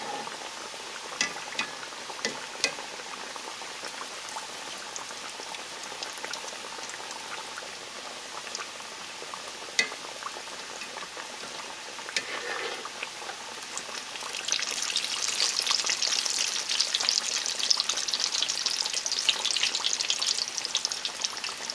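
Ground beef empanadas fry in hot oil with a steady, crackling sizzle and bubbling throughout, growing louder and more intense in the last few seconds.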